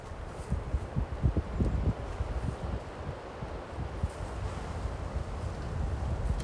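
Wind gusts through the Loess Hills of Iowa in March, a low rumbling buffet against the microphone with scattered rustling, steady and moderately loud throughout, no talking.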